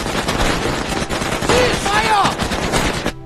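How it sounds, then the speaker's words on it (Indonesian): Heavy film gunfire from a squad of soldiers pouring a sustained fusillade into one man: dense, continuous overlapping shots filling the whole stretch at loud, steady intensity before cutting off abruptly. "Lalu Bruno pun menyuruh seluruh anak buahnya berhenti menembak lagi karena dirasa Atami sudah jadi bubur diberondong tembakan sedahsyat itu."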